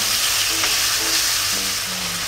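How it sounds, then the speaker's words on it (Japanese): Ground meat frying in a pan of plenty of rendered oil over medium-high heat, a steady loud sizzle and bubbling throughout with a few faint clinks of stirring. "もうアヒージョみたいな状態になってます、今油で煮るみたいな"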